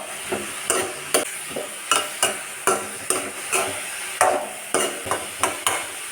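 Banana stem thoran with turmeric being stirred in a pan, a steady rhythm of about a dozen sharp scraping strokes with a light sizzle underneath, close and clear with no talking.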